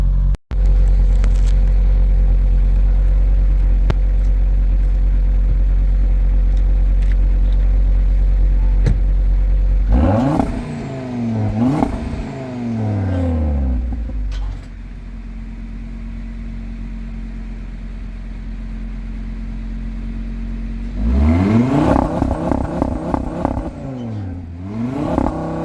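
An Audi RS3 sedan's five-cylinder exhaust idles with a deep drone, then revs sharply several times in rising and falling bursts, loud and close, before settling and revving again.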